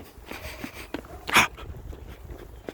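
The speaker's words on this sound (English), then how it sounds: "There's another dog." A dog in a game gives a short sharp bark or snort amid faint rustling and a few soft scuffs, with one loud burst near the middle of the clip.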